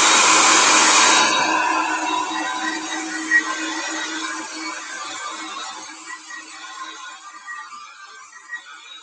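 A hair dryer blows on freshly painted bookmark colours, loud and steady for about a second, then it cuts off and the motor winds down into a quieter fading whir.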